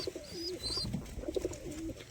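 Soft, low cooing from a flock of 50 to 60 pigeons in an open loft, several rolling coos overlapping, fairly quiet, with faint chirps in the background.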